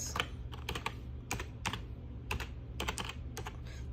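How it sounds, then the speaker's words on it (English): Someone types on a computer keyboard with one hand, producing uneven bursts of key clicks in small clusters with short pauses between them, close and clear over a low steady hum, with no talking. "It's very hard to type with just one hand"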